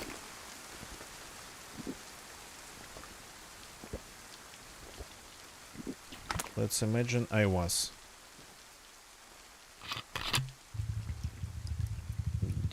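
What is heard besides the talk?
rain in the video game DayZ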